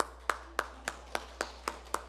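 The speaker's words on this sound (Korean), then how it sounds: "박수." Clapping at a church gathering: about eight sharp, evenly spaced claps in a steady rhythm, fairly faint, with no voices.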